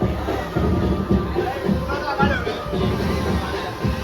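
Crowd at a Ganpati festival on its first day, a constant murmur of many voices and shuffling, with someone talking nearby over the babble.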